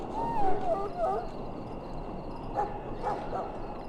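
A dog in the Dragon Age video game whimpers with high whining cries, then gives a few softer yelps over a dense game ambience, fairly close and moderate in level.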